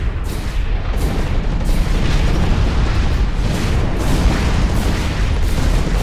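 A grenade blast in the mech shooter Hawken erupts into a loud, sustained rumble of explosions and combat noise, dense and continuous throughout with no pause.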